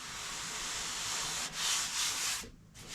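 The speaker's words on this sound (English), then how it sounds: "I got to radius this with sandpaper." Sandpaper rubs back and forth over wood by hand, rounding over an edge, a close, soft scratchy hiss in a few strokes with a brief pause near the end.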